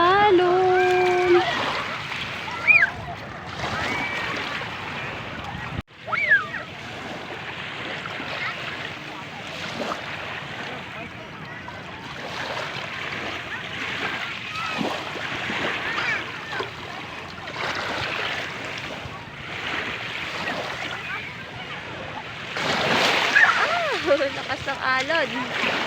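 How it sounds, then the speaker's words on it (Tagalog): Rough sea waves wash and splash continuously around a small boat in the provinces, with occasional louder slaps against the hull while several people talk over the water noise. "Malakas na ang alon."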